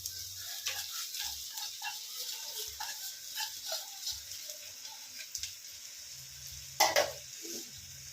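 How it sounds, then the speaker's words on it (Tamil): Crushed crab pieces sauté in hot oil in a home kitchen, a quiet, faint sizzle with scattered stirring scrapes and one sharper clatter near the end, no voices. "இதை வந்து நல்லா வந்து எண்ணெயில் வந்து நல்லா வதக்கிக்கிறணும்"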